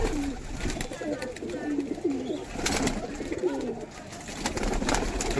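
Pigeons at a pigeon show and sale in Howrah coo repeatedly in overlapping, throaty calls, close and fairly loud amid general cage and yard noise.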